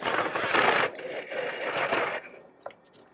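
A battery-powered tool motor whirs under load in a home brew-day setting, its drive strong at first then sagging and cutting out as the dying battery loses torque, with a brief click near the end.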